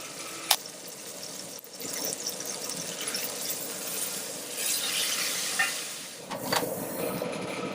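Rack of lamb sears in olive oil in a pan, giving a broad, steady hiss with a few sharp clicks and a swell of sizzle midway, heard close without speech.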